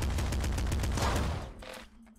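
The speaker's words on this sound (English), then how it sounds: "I can't believe I'm still using the machine gun" Rapid machine-gun fire from Nuclear Throne, a loud unbroken burst of sharp shots that stops abruptly, leaving a brief fading tail.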